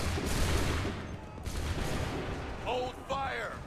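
Musket volley fire in Assassin's Creed III, a dense crackling roll of many shots at once, fairly loud and spread out, followed by a pause and a second burst of sound with a voice shouting over it.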